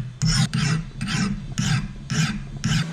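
A coarse bastard file rasps across a blade to sharpen it, six even back-and-forth strokes in a steady rhythm, close and loud with no talk.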